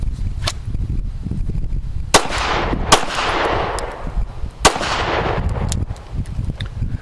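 Pistol shots ring out during a defensive concealed-carry shooting drill, several sharp loud cracks spaced irregularly, some in quick pairs, over background rumble and outdoor noise, with no talking during the shots.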